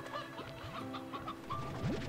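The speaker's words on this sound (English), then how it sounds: "You cheeky hens, come here." Hens clucking in the video game Slime Rancher 2, several short clucks and chirps scattered over a steady background of game ambience, moderately close.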